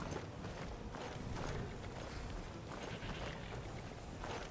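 Horses' hooves clip-clop steadily in the video game Skyrim, a continuous, fairly quiet trotting rhythm set against a dense ambient bed.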